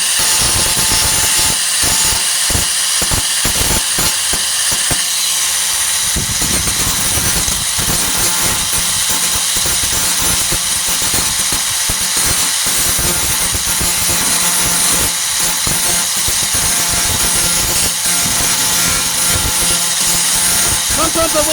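Power tool grinding down welds on a rusted 1998 Ford Ranger tailgate during rust repair, a loud continuous whine that holds steady throughout with brief uneven bursts early on.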